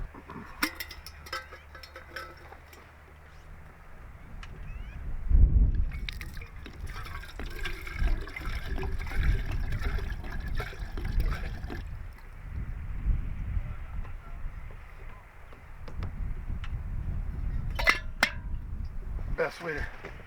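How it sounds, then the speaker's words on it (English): Boiling water in cast iron pans being scraped, with watery sloshing and metallic scraping that comes and goes in bursts, one heavier clank partway through, all fairly close and without talk. "Best way to clean these cast iron pans is boil some water in them for a few minutes. Scrape them with something."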